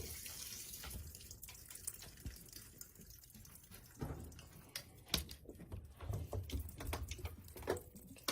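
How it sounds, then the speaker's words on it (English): Water runs into an RCA RPW302 portable washing machine as it fills for the rinse cycle, a soft, steady splashing stream with some uneven gurgles, heard up close and without talk. "So we are now at the real rinse cycle."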